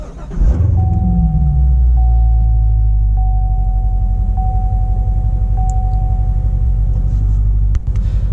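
A Corvette Z06 sports car engine cranks and catches, then settles into a loud, deep, steady idle that rumbles close up, with a repeating startup chime beeping over it.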